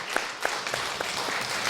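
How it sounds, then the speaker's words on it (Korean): A church congregation claps briefly to welcome visiting missionaries, a short burst of scattered claps in a room, moderately loud and unaccompanied by speech. "우리 박수로 환영하도록 하겠습니다"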